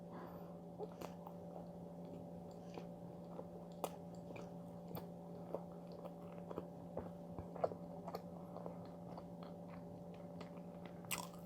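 Close, soft chewing and biting of Korean bread loaves, with small crunchy bites scattered across a steady low room hum and no talking.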